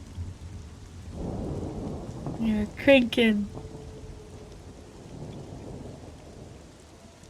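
Rain and thunder in the video game Monsters and Memories form a low, rolling rumble with a hiss of rainfall that swells and then lingers. A person briefly speaks over it.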